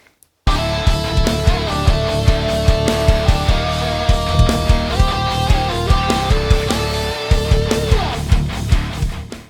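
A melody in diatonic fourths plays over a full backing with a steady beat and punchy low drums, the harmonized line moving in stepwise changes, loud and continuous after a brief silent start.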